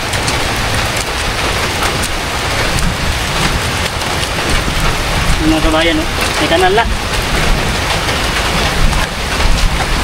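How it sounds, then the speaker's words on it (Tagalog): A dense, steady roar of heavy rain pours down on a farm plot during drainage ditch preparation, while someone talks over it partway through. "Buhos ng ulan."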